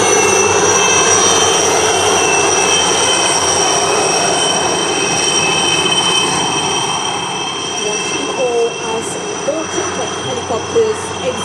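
Helicopters in a synchronized flypast salute at a ceremony in Mauritius drone steadily overhead in a loud, sustained whirring roar with high whining tones, easing slightly toward the end.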